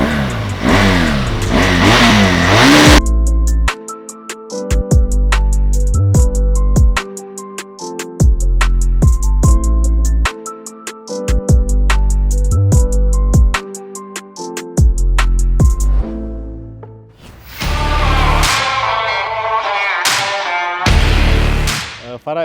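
A motorcycle engine, belonging to a Senegalese riding enthusiast, revs hard in loud repeated bursts with choppy throttle blips and sharp cutoffs, ending in a couple of longer roaring pulls.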